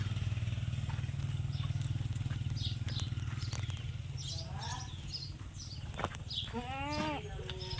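A pregnant Kathiawadi goat on an open farm gives a few bleats near the end, wavering calls over a steady low engine-like hum that runs throughout.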